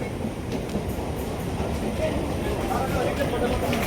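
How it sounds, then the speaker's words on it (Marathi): A crowded suburban train pulls into Vasai Road station with a continuous loud rumble and clatter of wheels on rails, steady throughout. "आपल्या आता ट्रेन पोचलेली आहे वसई रोडला"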